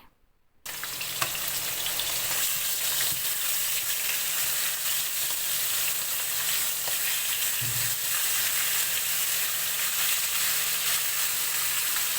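Fish pieces frying in hot oil, a dense, steady hiss that starts abruptly after a moment of quiet and holds evenly throughout, with an occasional faint clink and no voices.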